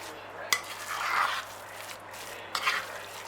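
Coffee and almond slice batter being stirred in a bowl, soft scraping and swishing strokes with a couple of brief clinks of a utensil against the bowl, close but quiet.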